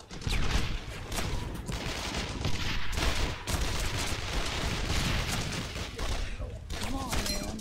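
Sustained, dense gunfire from the PS2 World War II shooter Brothers in Arms: Road to Hill 30, with rifle and machine-gun shots overlapping without pause amid battle noise and shouting voices.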